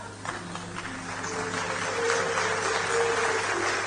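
Audience applause at a Hindi poetry recital with Kumar Vishwas on stage, a steady wash of clapping that swells slightly and holds, fairly distant, with a faint tone sounding in the background.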